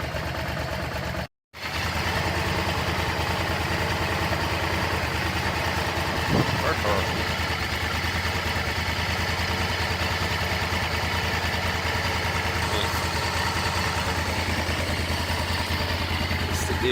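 Honda Firestorm motorcycle engine idling steadily off choke during a carburettor tune after a carb clean and cylinder head rebuild, a constant close, even drone with one brief dropout near the start.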